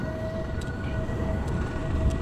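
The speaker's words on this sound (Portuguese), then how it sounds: "Ei, lá vem a ambulância." A passing pet ambulance siren on a city street, a steady wailing tone heard over continuous traffic rumble, moderately loud and without talk.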